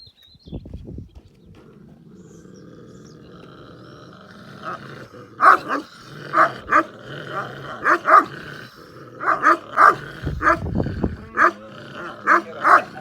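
Several dogs bark in repeated loud bursts at a farmyard chicken coop in a Turkish village, with deep growling between the barks and a few sharp yelps toward the end.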